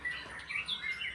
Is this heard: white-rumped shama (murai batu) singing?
yes